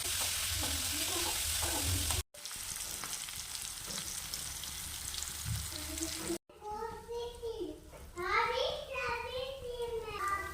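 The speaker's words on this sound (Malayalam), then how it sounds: "ചെമ്മീൻ ഇടയ്ക്കൊക്കെ ഒന്ന് ഇളക്കി കൊടുക്കണം കേട്ടോ" Prawns sizzle steadily in hot oil as they are stirred in a pan, a constant frying hiss with a few breaks, and a voice talking over the cooking near the end.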